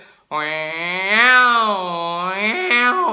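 A voice mimics two male cats yowling as they fight in the street, a single long, wavering drawn-out wail that swells in the middle and ends in a few sharper rising cries.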